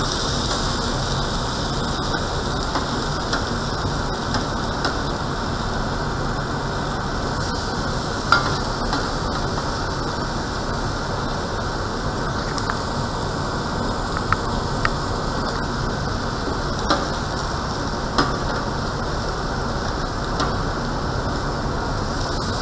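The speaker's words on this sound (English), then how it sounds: "we're just going to gently place it like a presentation side down on the grill" Food laid down on a hot grill gives a steady broad sizzle that lasts throughout, fairly loud and close, with a few faint crackles and no speech.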